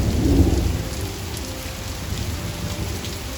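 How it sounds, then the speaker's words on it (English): Heavy rain pours in a dense, steady hiss while low thunder rumbles early on, loud and close with no voices. "I was so happy one day when it rained, and it rained very hard."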